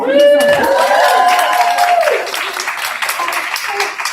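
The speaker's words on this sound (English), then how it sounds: "So we need to give him just a round of applause just for doing the IRB." Audience at a spring thesis and capstone presentation applauds, a loud spell of clapping that opens under a voice and then continues on its own, thinning slightly toward the end.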